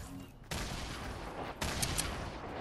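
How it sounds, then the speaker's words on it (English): Grenade launcher fire in a video game lands as two sharp, loud blasts, each followed by a sustained noisy rumble, over a dense background of game action. "this guy shooting grenade launchers"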